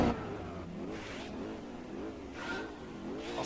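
A Cadillac CN prototype race car in Gran Turismo 4 revs hard, its engine climbing and dropping through slow gear changes in repeated rising sweeps, loud and close with no talk.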